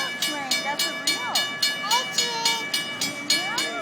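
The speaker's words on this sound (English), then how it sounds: "Oh, here's the train." A train passing through San Juan Capistrano, heard close and loud with a steady rhythmic clatter of wheels over rail joints and sustained tonal squeals and hums, with people chatting excitedly nearby.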